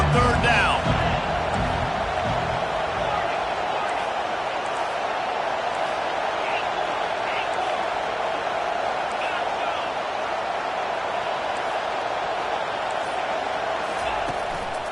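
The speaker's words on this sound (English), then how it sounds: "Decibels rising as the crowd gets behind this defense on 3rd down." A stadium crowd at an Auburn football game roars steadily on a third-down defensive play, a dense, continuous wash of cheering with scattered shouts, under a commentator's talk throughout.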